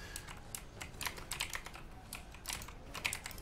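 A computer keyboard is tapped rapidly and continuously while someone plays Rocket League: a steady, close patter of key presses with occasional louder strikes, no talk.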